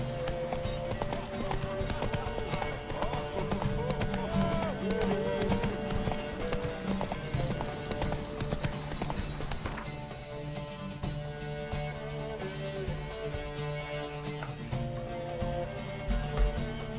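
Hooves of a horse galloping in the video game Witcher 3 pound in a fast, rhythmic clip-clop under game music and ambience, continuing throughout.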